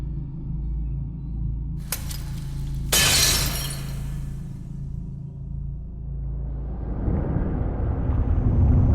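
A glass eye shatters in Elden Ring Shadow of the Erdtree: a sharp crack, then a bright burst of breaking glass, over a low rumbling backdrop that swells again toward the end.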